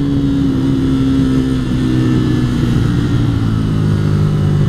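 A small, nimble motorbike engine holds a steady drone at road speed, loud and close with wind rush layered over it and the pitch easing slightly, no voices.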